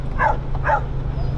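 Dogs barking in Arecibo, Puerto Rico: two quick, fairly close barks half a second apart over a low steady hum, with no talking.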